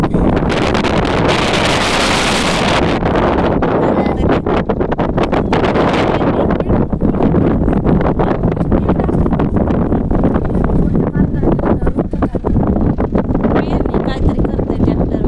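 Strong cold wind buffets the microphone outdoors on a Sunday morning after rain, a loud continuous rushing roar with gusts, while a person talks over it.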